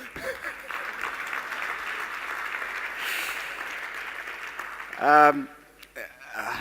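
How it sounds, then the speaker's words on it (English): Audience at a small-business opportunity roadshow in Port Elizabeth applauds the previous speaker, with a steady, moderately loud wash of clapping that runs for several seconds before a short voice breaks in near the end. "give the last speaker a warm round of applause"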